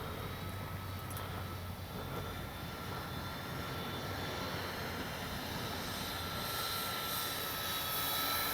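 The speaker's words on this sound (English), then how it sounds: "Boy, that's a beautiful plane." A Flightline P-38 RC model plane with a 1600mm twin-engine layout flies overhead, its engines giving a continuous steady drone that grows slightly louder toward the end, with no talk.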